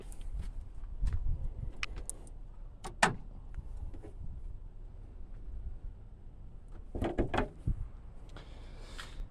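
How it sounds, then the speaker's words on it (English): A car hood being opened before a 12-volt battery change, heard as a few clunks and latch clicks spread over several seconds, with a cluster of sharper knocks near the end. "So you want to open your hood or bonnet, as they say."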